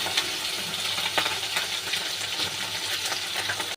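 Tangra fish frying in hot oil in a pan, a continuous hissing sizzle with small crackles and pops, close and fairly quiet.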